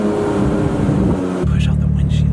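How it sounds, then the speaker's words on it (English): A Porsche 991 GT3 engine roars loud and near with a high, rising rev, then shifts to a steadier, lower drone, with people talking over it. "This thing sounds like an F1 car"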